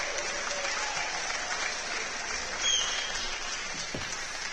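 Crowd applause at a darts final in the DR21 Motor City Open 2025, a steady wash of clapping from a distant audience that swells briefly and then settles back.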